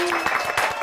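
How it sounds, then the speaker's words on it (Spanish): Studio audience applause at a Spanish-language talk show, a brief dense patter of clapping with a steady tone running beneath it. "aplausos para ustedes"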